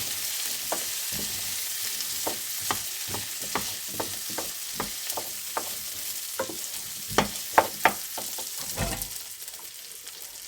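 Duck meat fries in salted butter in a pan, a steady sizzle broken by repeated scraping stirs and taps, close and fairly loud with no talking.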